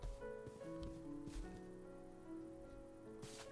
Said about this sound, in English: where there isn't slime rain coming down from the sky